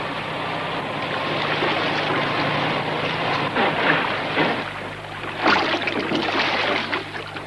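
A steady low boat engine drone runs throughout, with broadband water-like noise and a couple of louder surges near the end.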